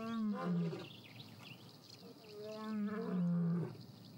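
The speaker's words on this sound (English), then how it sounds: "He's responding, sending out a powerful roar." A territorial male lion in the wild lets out two deep, powerful roars, each a long groaning moan that swells and fades, separated by a short pause. The roars are loud and close, with no talk.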